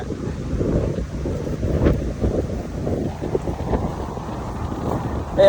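Wind gusts buffet the microphone outdoors on a dog walk, a loud, continuous low rumble that swells and fades, with brief faint human sounds under it.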